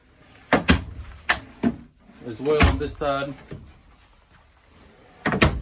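Big drawers in a 2020 Thor Motor Coach Chateau 28E Class C RV are pulled open and pushed shut with several sharp wooden knocks and slides, close by, between stretches of talk.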